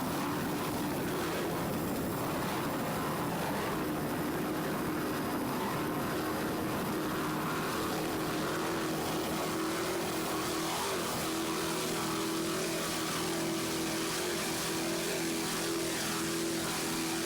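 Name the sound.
racing powerboat with two 800 horsepower inboard engines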